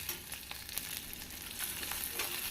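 Onions sautéing in a pan with tamarind for onion chutney, a steady close sizzle with faint stirring scrapes, no voices.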